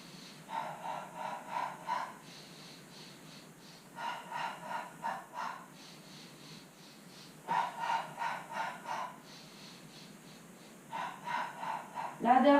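Rhythmic breathing during a beginner pilates exercise, sets of quick forceful breaths in clusters separated by short pauses, close and fairly quiet with no talk over them.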